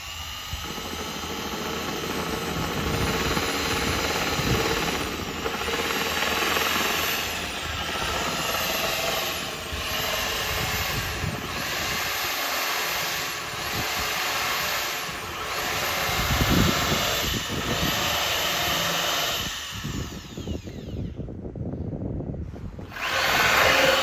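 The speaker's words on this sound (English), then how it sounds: "drilling a really big through hull" A heavy power drill grinds steadily through a wooden boat hull, boring a large through-hull hole for a long stretch, with a rhythmic whirring pulse, then stops near the end.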